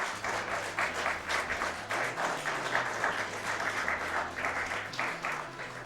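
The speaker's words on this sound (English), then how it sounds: "Gonna let the crowd finish clapping" A crowd applauding steadily, dense clapping that holds at an even level throughout, with a faint low hum beneath.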